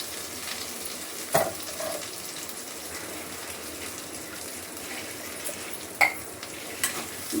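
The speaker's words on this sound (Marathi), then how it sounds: "हे बघा असं छान या सगळ्या तेल मसाल्यांमध्ये परतून घ्यायचं" Spinach and paneer masala sautéed in oil and spices, a continuous close sizzle with the spoon scraping and clinking against the pan at a few points. No voices are heard.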